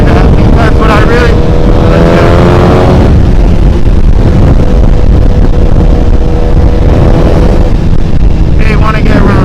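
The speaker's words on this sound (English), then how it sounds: "riding the new Panigale V4" A 2025 Ducati Panigale V4 at riding speed near Tampa Bay, the engine note rising and falling in harmonic sweeps through gear changes under constant loud wind buffeting, with a rider's voice talking over it.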